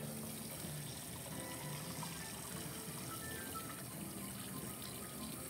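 Cold tap water runs steadily over freshly cooked pasta in a kitchen sink, a constant close splashing rush with no talk.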